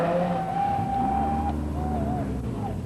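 Race cars from a 1990 amateur road race sliding around wet Queenstown street circuit corners, engines droning steadily with rising and falling whines as they pass, loud and continuous.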